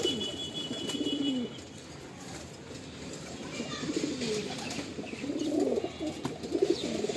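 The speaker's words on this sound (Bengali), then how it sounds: "এই একটা পায়রা দেখুন" Black Madrasi pigeons coo close by in repeated low, throaty rolling calls, several bursts rising and falling over a light background hiss and faint rustling.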